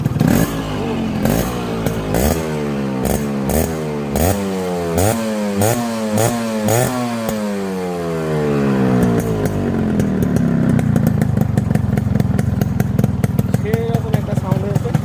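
A Yamaha RX 100 motorcycle engine is revved repeatedly, rising and falling in sharp bursts before settling into a loud, busy high-revving drone, close and dominant throughout.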